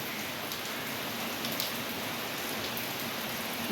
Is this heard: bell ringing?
no